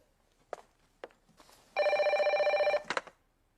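Indoor telephone ringing in one loud, steady electronic trill of about a second, with a few soft knocks and shuffles nearby before and after.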